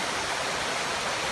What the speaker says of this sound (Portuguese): vou mostrar a cachoeira aqui